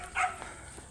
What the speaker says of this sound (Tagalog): May aso na eh.